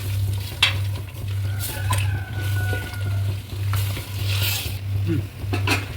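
Mutton sautéing in oil in a pan for a Sunday-style mutton curry, a continuous close sizzle with periodic stirring scrapes and a low rhythmic hum beneath.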